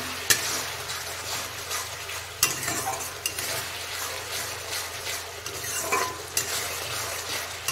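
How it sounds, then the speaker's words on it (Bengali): Masala for an onion- and garlic-free cauliflower curry sizzles steadily in a pan with chopped coriander, as a spoon scrapes and stirs through it with periodic sharp clinks, no voices. "এইভাবে করে আরো খানিকক্ষণ আমি মশলাটা কষিয়ে নেব।"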